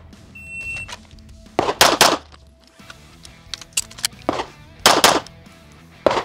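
Sharp gunshots from a Beretta pistol during a timed shooting drill ring out in two close pairs, loud and near, with a pause between the pairs and one more shot at the end.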